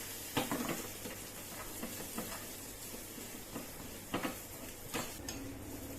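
A spoon stirring green chilies and chopped garlic sizzling in a pan, with a steady frying hiss and occasional scraping taps against the metal, close up and with no talking.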